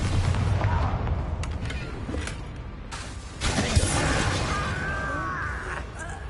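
A spell explosion in Hogwarts Legacy sounds as a loud boom with shattering debris, then a second burst and a swishing whoosh as magical combat continues. Dull rumbles sit beneath, and no one speaks.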